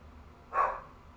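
A single short bark from Nika the dog rings out late at night, faint and somewhat distant against a quiet background.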